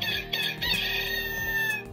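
A rooster crows in one drawn-out, wavering cock-a-doodle-doo over a steady backing hum, loud and close with nobody talking.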